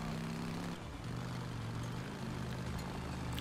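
Helicopter rotor drone in the video game Days Gone, a steady low throbbing hum with layered engine tones, fairly constant and close throughout with no talk.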